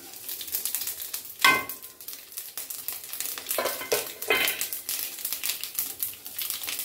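A tempering of dried red chillies, mustard seeds and five-spice crackles and sizzles in hot oil, a steady close hiss broken by sharper spattering bursts, with no voices.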